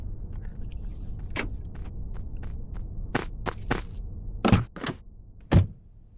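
Car door thunks and clunks sound as a woman gets into her car in a horror short film, several sharp knocks and a louder slam over a low steady rumble.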